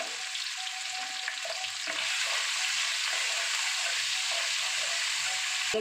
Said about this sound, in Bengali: নারকোল এটা আমি হালকা করে ভাজব